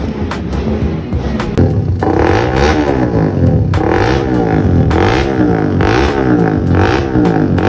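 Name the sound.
Suzuki Raider 150 Fi race motorcycle engine revving during ECU tuning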